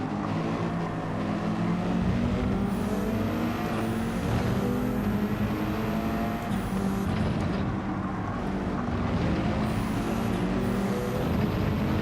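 Subaru BRZ racing in Gran Turismo 7, its simulated engine note droning steadily with rising and falling revs and brief tyre squeal, a close, continuous game soundtrack with no voices.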